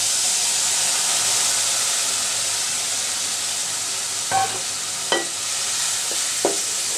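Chopped potato and soaked red lentils go into a hot pan with a steady frying hiss, broken by a few sharp knocks of a spoon against the pan.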